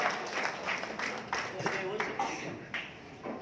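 Audience applause welcoming a guest, the Walwa taluka president, at a meeting: a steady wash of many hands clapping at moderate volume for the whole stretch.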